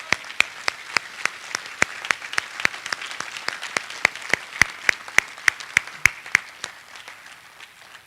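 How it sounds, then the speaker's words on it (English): A round of applause from a commemoration audience, heard as sharp, evenly spaced claps at a steady brisk rhythm, likely a few close hands over faint background clapping that thins out toward the end. "Another round of applause."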